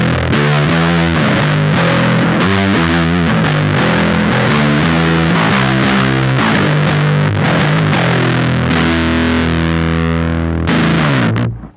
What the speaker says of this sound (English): Let's go ahead and crank up the fuzz.